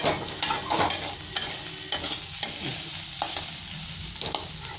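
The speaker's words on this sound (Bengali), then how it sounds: "এখানে উচ্ছেটা প্রায় আমার ভাজা হয়ে এসছে, আর একটু লাল লাল হবে ভাজা" Bitter gourd frying in a pan on a gas stove, with a steady oily sizzle broken by repeated scraping stirs at an uneven rhythm. The sound is close and moderately loud, and no one speaks.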